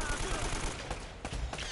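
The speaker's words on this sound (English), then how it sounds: "Keep shooting me with that pistol" Pistol gunfire in the Uncharted video game, a quick burst of several shots over a noisy game soundscape, moderately loud and close.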